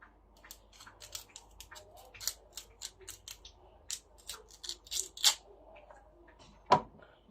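A knife chops a carrot on a board in a quiet kitchen, a string of crisp, separate close taps at an irregular pace, followed by one louder knock near the end.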